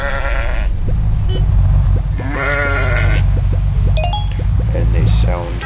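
Fluffy sheep character from the mobile game Crossy Road gives a few bright bleats over a steady low game hum, loud and close, with a short clinking chime near the end.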